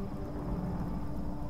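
Thunder rumbles in a stormy scene of the Tomb Raider video game, set at a Solarii fortress. A brief, low, continuous roll sounds moderately distant and carries no speech.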